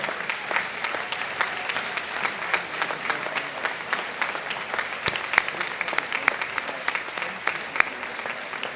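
A high school graduation crowd gives a long, even round of applause that sounds broad and somewhat distant. Individual claps pop out now and then over the steady wash, with no speech on top.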